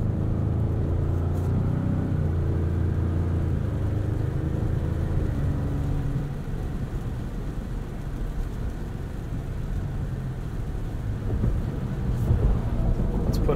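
A 2022 Ford Expedition Platinum SUV driving, giving a steady low road and engine rumble inside the cabin, with a faint tonal hum easing off partway through and a constant broad tire noise.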